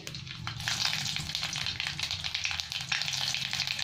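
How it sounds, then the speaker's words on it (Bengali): Steady oily frying hiss and crackle fills the clip, with small spattering pops throughout as black mustard seeds and torn dried red chillies sizzle in hot oil in a wok. "এবার আমি কড়ার মধ্যে একটু কালো সর্ষে দিয়ে দিলাম।"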